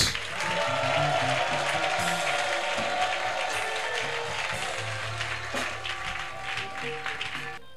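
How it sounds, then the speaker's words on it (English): A church congregation claps and shouts during a worship service, a sustained crowd roar with rapid clapping at fairly loud level, with music tones and some clattering underneath, tapering slightly toward the end. "Can you clap and shout?"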